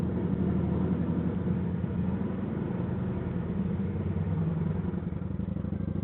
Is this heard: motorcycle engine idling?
yes